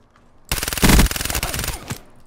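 Gunfire in the Call of Duty: Black Ops 3 video game: a close, loud burst of rapid automatic fire about a second and a half long, with a short heavier stretch partway through.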